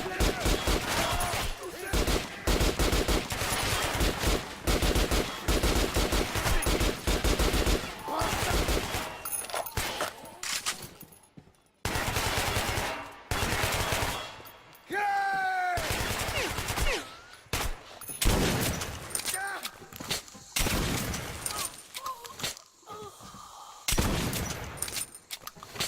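Enemy gunfire in the shooter game Metro Last Light, with dense, sustained bursts of automatic fire and loud shots that repeatedly cut out and resume, near and harsh, with shouted voices in between.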